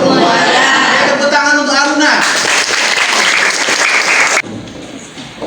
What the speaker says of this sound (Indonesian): Tepuk tangan untuk Aruna